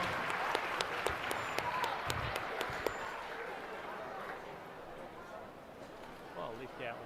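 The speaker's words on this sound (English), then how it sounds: "Let's have a round of applause for all of our senior division exhibitors." An arena crowd at a youth swine showmanship show gives a round of applause for senior division exhibitors, scattered claps and a few sharp knocks fading out as chatter takes over.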